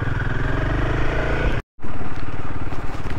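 A Royal Enfield Himalayan 450 motorcycle engine drones loud and close at a steady pace on a rough, stony off-road track, cutting out abruptly for a moment before roaring back.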